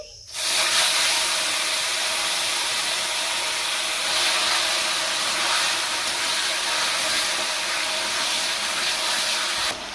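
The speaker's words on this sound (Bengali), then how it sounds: "আর কচুর শাক সেদ্ধগুলো এবার দিয়ে দিচ্ছি" Boiled taro leaves dropped into hot oil tempered with cumin, giving a loud, steady sizzling hiss that starts abruptly and holds evenly throughout.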